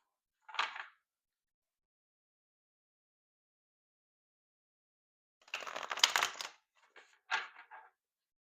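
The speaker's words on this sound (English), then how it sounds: "that was a half behind shuffle" Tarot and oracle cards being shuffled by hand, one short riffle burst near the start, then a longer flurry of card-slapping and a couple of quick follow-up shuffles, close and fairly quiet with no talk.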